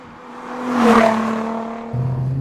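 Nissan 350Z on worn rear tyres sliding and losing grip: the engine note swells and whirs as the car slides past close by, then settles into a steadier hum.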